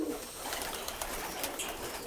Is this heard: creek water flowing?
no